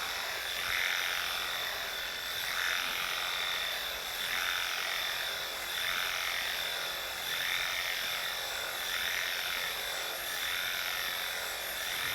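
A Wahl Bravura lithium-ion clipper grooms an Old English Sheepdog, making a steady faint electric hum with a soft rhythmic swishing pulse about every second. Nobody talks.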